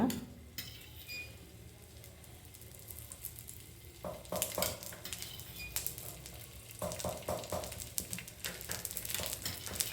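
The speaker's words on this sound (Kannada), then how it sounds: "ಇವಾಗ ಎಣ್ಣೆ ಹಾಕ್ಕೊಳ್ಳೋದು ಅದ್ರ ಮೇಲೆ ಫ್ರೈ ಆಗೋದಕ್ಕೆ" Oil heating in a pan on a low flame for a Sunday fish fry gives a faint, steady sizzle, broken by a few brief clatters and crackling bursts partway through.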